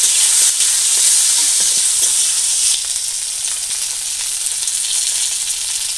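Tomato and green chili sizzling loudly in hot oil after tempering for a fish curry with potato and cauliflower, a dense close hiss with faint stirring clicks.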